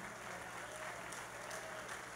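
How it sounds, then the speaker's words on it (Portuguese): A church congregation claps for Sister Margarida, a brief, fairly faint burst of many hands with a steady, even texture and no talking over it. "Vamos aplaudir a irmã Margarida"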